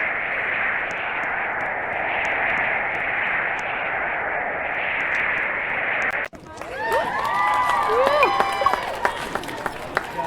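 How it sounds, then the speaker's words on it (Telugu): In a Roblox game, a virtual crowd of fans applauds in a dense, steady wash of clapping for about six seconds. It then cuts abruptly to a different scene of warbling electronic tones. "ఫ్యాన్స్ గైస్ మనకి చప్పట్లు కొడుతున్నారు వాళ్ళు"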